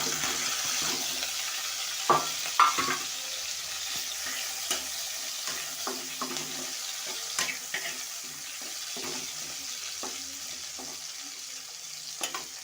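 Onions and chili fry in oil in a wok for chow mein, giving a steady, moderately loud sizzle. Occasional utensil clicks and scrapes sound up close, with no talk.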